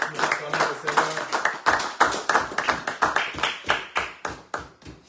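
A congregation claps in a steady, brisk rhythm at a church service, sharp hand claps repeating roughly twice a second, with a brief sung or spoken voice underneath at the start.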